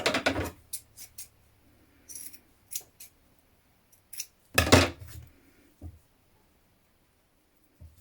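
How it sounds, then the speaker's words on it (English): Scissors trim a sewn fabric seam in a quiet room, a series of crisp separate snips and metallic clicks spread unevenly across several seconds, with silent gaps between cuts. "then trim it to 1cm"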